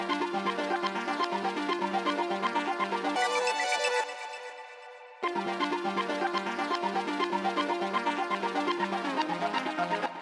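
An atmospheric background sample from a dance track plays in its original, unreversed form: a dense sustained tonal pad with rippling layers. It thins briefly near the middle, then returns at full loudness, with no voices.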